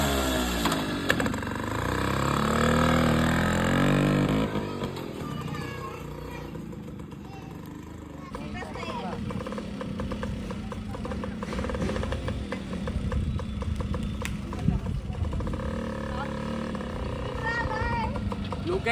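An old vehicle engine runs while being driven through a village in the Konkan region, a steady rough chug that carries throughout under loud, close voices talking.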